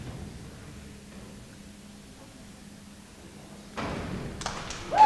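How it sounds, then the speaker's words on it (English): At a high school basketball game, a free-throw ball rolls around the rim and drops in. Low gym rumble gives way to a dull thud, then a swell of crowd noise. "Rolls around about 3 times and drops in."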